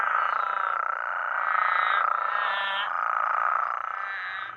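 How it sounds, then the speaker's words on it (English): A dense chorus of Sonoran desert toads calls continuously after monsoon rain, a steady trilling drone with overlapping voices swelling and fading, moderately loud and without talk. "It was enough rain to bring out the Sonoran desert toads."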